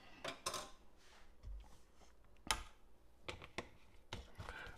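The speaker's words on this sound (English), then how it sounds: "Now what we got to do is mix everything up so that" Venison jerky marinade is stirred in a bowl, giving quiet irregular clinks, knocks and scrapes of a utensil against the dish, faint and close, with no one talking.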